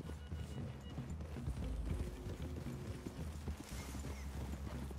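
Horse hooves clip-clop at a walk in the Western video game Red Dead Redemption 2, a quiet, steady run of soft footfalls over low outdoor ambience, with a faint snort or whinny mixed in.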